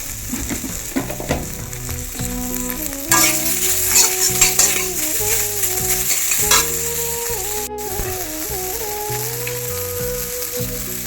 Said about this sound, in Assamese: শুকান তেলতে ঔটেঙা দি দিছোঁ। কাটি লোৱা পিঁয়াজবিলাকো দি দিয়া হৈছে।